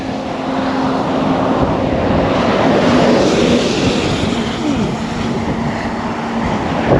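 Strong wind gusting outdoors at Acle Bridge, a steady, loud, broadband roar with low rumbling buffets and a faint tonal hum beneath, sustained throughout with no voices.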